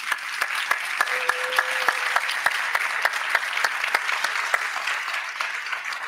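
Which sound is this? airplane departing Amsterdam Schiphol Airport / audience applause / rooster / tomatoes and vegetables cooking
audience applause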